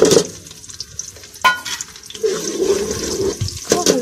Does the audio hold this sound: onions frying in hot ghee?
yes